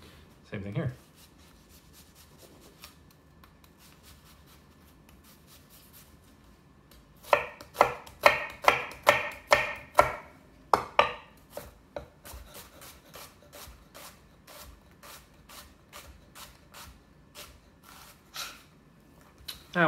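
A knife dices an onion on a cutting board for a spinach shakshuka, starting with a few isolated cuts and then settling into a rapid run of crisp chops that gradually soften and thin out.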